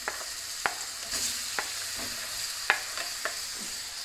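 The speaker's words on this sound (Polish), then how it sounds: "Wrzucamy teraz banany" Sliced bananas with cinnamon fry in a hot pan under a constant sizzle, broken by occasional clicks and scrapes as a utensil stirs them.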